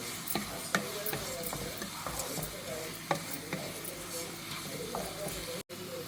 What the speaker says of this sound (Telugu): ఒక టమాటా, 4 బెండకాయలు వేసానండి. అలా ఫ్రై చేసుకోవాలండి నిదానంగా